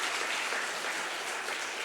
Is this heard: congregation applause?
yes